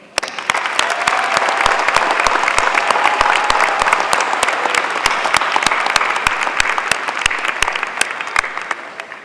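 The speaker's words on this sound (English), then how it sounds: "join me in giving a round of applause to all those who have supported our graduates" A graduation audience gives a loud round of applause at a 2016 WMHS ceremony, dense clapping from many hands with sharp individual claps standing out, sustained evenly for several seconds.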